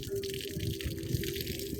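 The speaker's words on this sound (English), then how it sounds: "Yeah, the water is here. It is flowing." Water runs steadily from a repaired well tank, a continuous close rushing and splashing flow with a constant hum beneath it.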